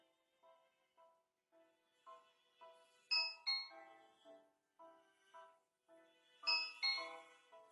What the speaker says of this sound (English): I had connected the doorbell to my gaming station.